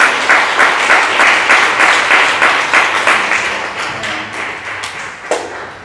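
A church congregation at a Sunday Pentecost service claps in steady rhythmic unison, loud and close at first, then gradually fading with a few final louder claps.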